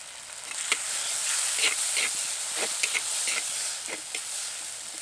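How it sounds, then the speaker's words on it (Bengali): Spices sizzling in a pan for an aloo tarkari potato curry, a steady soft hiss with faint crackles and light stirring clicks, fairly quiet and close, no voices. "মশলাগুলো সব কিছুক্ষণ ভালো করে ভেজে নিয়েছি"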